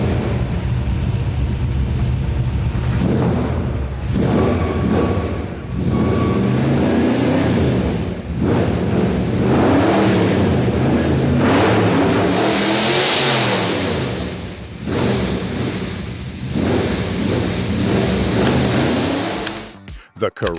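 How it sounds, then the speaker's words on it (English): A 1973 Ford Falcon XB GT Interceptor V8 revs loudly and continuously, its roar rising and falling through repeated throttle blips before cutting off abruptly at the end. "1973 Ford Falcon XB GT Interceptor. Great start if you recognize that V8 roar."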